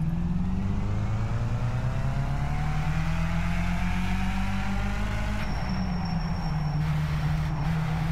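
A Skip Barber race car engine roars at the Nordschleife in the iRacing sim, a loud, steady drone with a rising and shifting pitch as the car accelerates and changes gear, heard alone.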